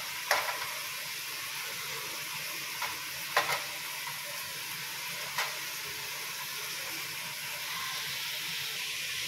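Fresh live Ganges river fish hit hot oil in a pan, giving a steady, even frying hiss with a few sharp crackles and pops near the start, close and continuous for the whole stretch.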